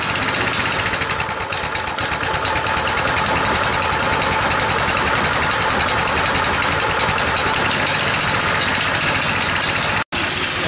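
Small single-cylinder engine on a Coleman minibike running steadily at a high idle due to a governor problem, a loud, close, continuous buzzing drone with an even pulse, cutting out briefly near the end.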